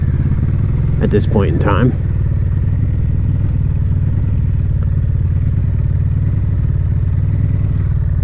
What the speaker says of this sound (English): since I have it running and hopefully not stalling, because I'm not going to turn it off